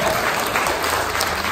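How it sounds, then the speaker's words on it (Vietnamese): An audience at an Easter celebration applauds, dense and loud continuous clapping from a crowd that fills the room, with no pauses and no clear voices. "xin mời một tràng pháo tay để chúc mừng anh chị Titusville"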